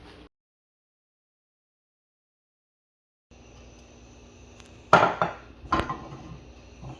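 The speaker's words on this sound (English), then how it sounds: "And now I'm going to turn it over and return it to the oven for another 3 minutes." Metal baking tray sounds while baked spring rolls are flipped: after a silent gap, two sharp clanks and scrapes ring out close by, followed by softer rattling.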